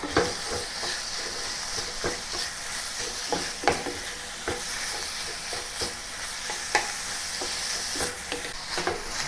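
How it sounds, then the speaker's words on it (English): Beef is stirred with sautéed onions in a hot pan for Malaysian sweet soy sauce beef. A continuous sizzle runs throughout, broken by regular spatula scrapes and knocks, close and without speech. "And then mix the beef with the onions."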